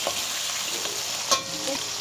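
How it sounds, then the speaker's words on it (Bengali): Potatoes fry in hot oil in a pan, giving a steady close sizzle with a few brief stirring clinks and pops. "আলুটা এদিকে ভাজা হতে থাক"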